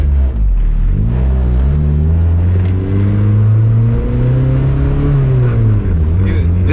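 A K24 engine in a K-swapped Mazda Miata pulls at light throttle, a steady droning rumble with rising and falling pitch as it accelerates, heard up close from inside the cabin.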